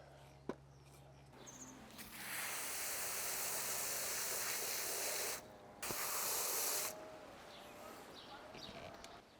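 More water is poured onto coconut fiber substrate in two steady hissing bursts separated by a brief pause, with faint handling clicks before and after.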